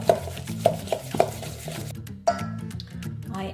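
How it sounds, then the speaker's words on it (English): Softened butter is whisked in a bowl, producing a run of light rhythmic taps and clicks against the bowl, close by, then a brief pause before a few more strokes. "Then you are going to start whisking this."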